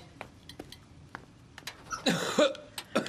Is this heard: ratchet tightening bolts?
no